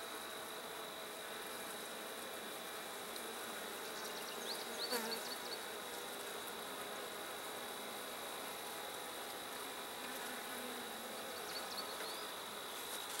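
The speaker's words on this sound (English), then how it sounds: "there's still a lot of bees in this hive" Steady, dense buzzing of many honey bees close by in a hive with drone-laying workers, a continuous drone with occasional brief higher whines, no voices.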